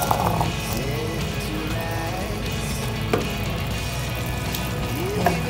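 Constant bubbling and hissing of a pot of water at a rolling boil with purple sweet potato added, close and steady, with occasional small clinks.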